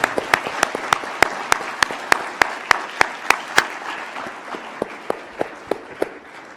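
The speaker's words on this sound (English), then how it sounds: "Ladies and gentlemen, if you'll join me in a round of applause for DNI Haines" An audience at an intelligence community event gives a round of applause for DNI Haines, heard as a few loud, sharp, evenly spaced claps that thin out and fade over several seconds.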